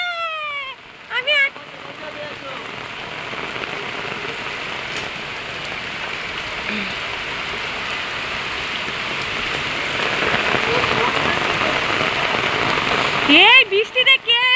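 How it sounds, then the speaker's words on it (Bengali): Heavy rain pours steadily onto a surface as a dense, continuous hiss that swells louder toward the end, with a few short voice sounds near the start and close. "হ্যাঁ বৃষ্টি হচ্ছে, কেমন বৃষ্টি হচ্ছে।"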